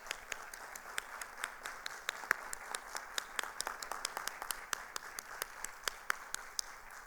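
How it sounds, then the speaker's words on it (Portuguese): Scattered, fairly sparse applause in a city council chamber, individual sharp claps from a small group repeating in a loose rhythm for about seven seconds, quiet and somewhat distant. "Vamos fazer uma salva de palmas então para eles, né?"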